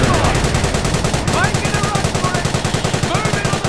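Rapid machine-gun fire rattles in steady, evenly spaced bursts from a WWII battle in the strategy game Company of Heroes, loud and continuous, with a few brief shouts in the mix.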